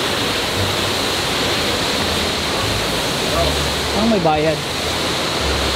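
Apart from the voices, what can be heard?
Kawazu Seven Waterfalls, Japan, rushing water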